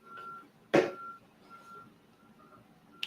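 Truck reversing beeps sound from outside behind a building next to a supermarket, a few faint evenly spaced tones heard through a window, with a sharp louder knock partway through.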